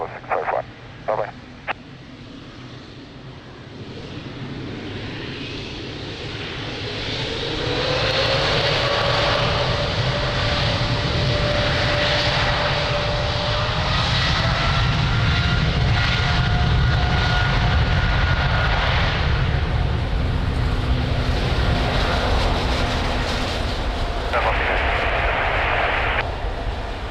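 An airliner takes off from runway 02 at Lisbon Airport, its engine roar building to a loud, sustained rumble with a rising whine heard from nearby, steady for most of the stretch.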